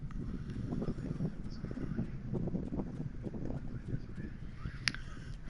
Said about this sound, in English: Oh, I have a fan on me.